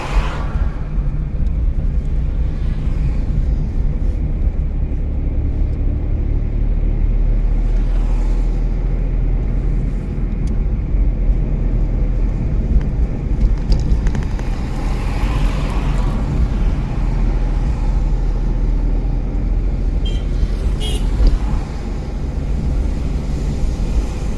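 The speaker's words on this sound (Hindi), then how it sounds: "हाँ ऐसे मेरी साइड को रेस दो।" A car engine runs during a driving lesson at a motor driving school in Solan, heard as a close, constant low rumble from inside the car for the whole stretch, with no clear rises in pitch and no talking.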